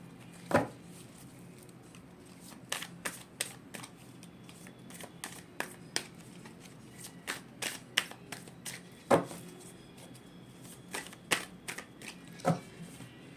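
Tarot cards are shuffled and dropped, giving a run of sharp, close snaps and flicks in uneven rhythm, some bunched in quick bursts, over a quiet room.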